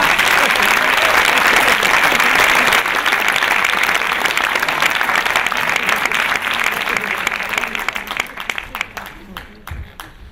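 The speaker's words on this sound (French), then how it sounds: "nous allons vous demander de nous applaudir maintenant en début de spectacle." Loud, dense applause from a theater audience at the start of a show, a sustained wash of clapping that thins and fades toward the end.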